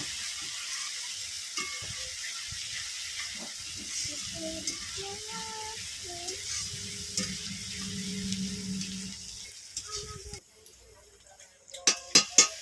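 Ginger-garlic spice paste sautés in a pan for a Sundarban-style biryani, with a steady sizzle and scattered stirring scrapes, then the frying fades near the end and a few sharp clinks ring out.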